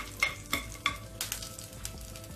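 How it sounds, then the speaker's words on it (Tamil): Garlic and dried red chillies frying in a pan, a soft continuous sizzle broken by three sharp spoon taps and scrapes against the pan early on, then lighter stirring, close and fairly quiet with no speech. "பூண்டும் வரமிளகாயும் நல்லா கொஞ்சம் வறுத்துக்கலாம்."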